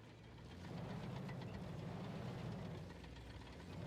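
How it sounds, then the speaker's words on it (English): A tank-game vehicle engine rumbles steadily behind the player, a low, continuous droning idle with a faint knocking texture, moderately distant and holding level throughout with no talking. "I keep hearing an engine behind me"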